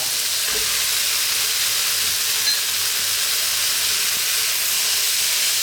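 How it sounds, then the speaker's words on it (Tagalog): Ground beef frying in a pan with tomato, onion and garlic for a Filipino bean sprout dish, a steady broad sizzle and hiss with faint stirring, no voices. "Ilalagay na natin yung ating ginuling na baka."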